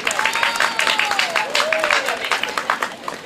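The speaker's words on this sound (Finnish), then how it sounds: "vielä kerran valtaisat aplodit näille todella viisaille tietäjille" Audience at a summer opening event in Heinola giving a big round of applause, dense crowd clapping with rhythmic pulses and raised voices or whoops riding over it.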